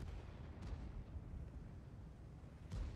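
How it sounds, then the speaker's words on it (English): Artillery fires in the World of Tanks video game, with two deep booming blasts spaced a couple of seconds apart over low rumbling battle noise. "Artillery deployed and ready to fire."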